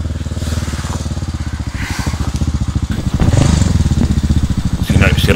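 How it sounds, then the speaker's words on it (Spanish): A motorcycle approaching on a mountain road in the Sierra del Barbanza, its engine droning steadily and growing louder over several seconds while someone talks over it. "escucho un ruido de una moto de fondo."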